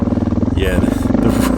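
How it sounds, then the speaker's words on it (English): Suzuki DR650 motorcycle engine idling low and steady as the rider feathers the clutch through mud, a close, continuous rumble with light clatter and a brief higher whine partway through. "I'm just feathering that clutch"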